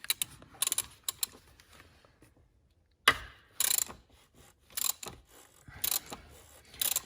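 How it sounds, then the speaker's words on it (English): A socket wrench with a ratchet turns counterclockwise to loosen the oil filter housing on a BMW 328d F30 diesel. Sharp clicking bursts come in short irregular groups, close and fairly loud, with quiet gaps between them. "I'm going to use a socket here."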